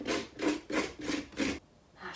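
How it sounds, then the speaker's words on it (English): Inside of a pumpkin being scraped out with a utensil during Halloween carving: five rhythmic, rasping strokes in quick succession, close and fairly loud, followed by a brief pause and the start of another, with no talk over it. "I'm scraping good quality pumpkin out here, you know?"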